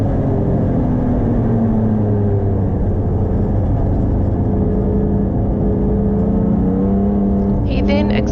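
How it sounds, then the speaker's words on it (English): A BMW E36 race car passing on a damp circuit during a club race at Taupo, a loud steady engine roar filling the whole stretch, with a rising whine near the end. "Kel passes Cheyenne Rankin in her BMW E36"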